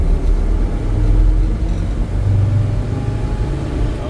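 Engine of a rare military 6x6 truck pulling steadily in low gear, a loud, continuous low rumble and drone up close with no talk.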